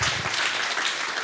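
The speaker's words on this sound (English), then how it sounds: "that's how we can clap for that" Audience applause at a live Skool Games business event fills the room, a dense, steady wash of many hands clapping at close, even loudness with no break.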